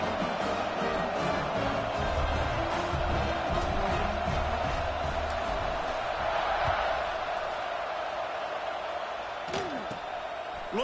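A College Football 26 stadium crowd at a Florida State vs Virginia game roars in a dense, steady wash of cheering, broken by a few thumps and a short rising whistle-like sweep near the end.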